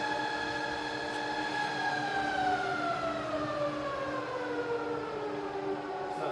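A rebuilt Bridgeport milling machine with a 48-inch table runs its spindle in reverse while slowing from about 900 toward 460 RPM, a smooth, steady whine that glides gradually downward in pitch over a low mechanical hum.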